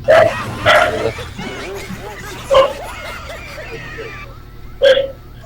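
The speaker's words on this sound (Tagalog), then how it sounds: "Aso ang tumahol." Three or four short, sharp dog barks ring out close by, with quieter talking and background chatter filling the gaps between them.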